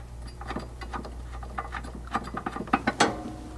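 A hand ratchet clicks in quick runs while tightening a flanged-head metric bolt into a factory threaded insert on the frame, fitting a gas tank skid plate on a Ford Bronco Sport. The close clicking quickens toward the end.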